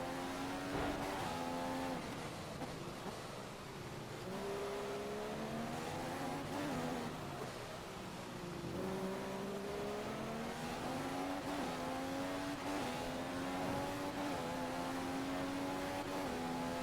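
Formula 2 race cars at the Russian Grand Prix in a racing video game, engines whining steadily with shifting pitch as they rise and fall through gears, continuous and fairly loud throughout.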